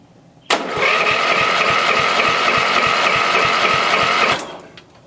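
An engine cranks over on the starter for about four seconds, a loud, rapid, even chugging rhythm that begins abruptly and stops without catching, close by and alone.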